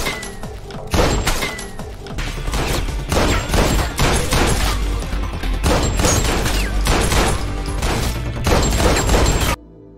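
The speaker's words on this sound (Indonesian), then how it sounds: "Kemudian Avery harus beradu tembak dengan Brenzov dan inilah aksinya" A dense, loud burst of gunfire from an action film shootout, with rapid shots piling on each other almost continuously for about nine seconds before cutting off abruptly.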